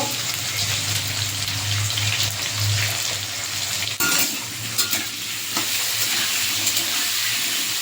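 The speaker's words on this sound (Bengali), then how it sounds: "আলুতে অল্প নুন হলুদ দিয়ে ভেজে নেব।" Potato pieces fry in hot oil in a kadai with salt and turmeric, producing a loud, steady sizzle and crackle with occasional stirring scrapes, very close and without talk.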